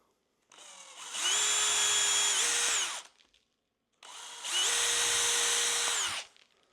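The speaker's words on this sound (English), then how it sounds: "I'm going to drill that out." Two separate bursts of a power drill spinning up and boring a hole in a door, each a few seconds long with a short pause between, close and clear.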